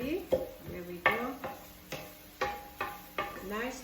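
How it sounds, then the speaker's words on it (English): Pancit noodles stirred in a pan, with a steady series of scraping strokes and clacks from the utensil roughly every half second, close and fairly quiet. "You stir this continuously, by the way"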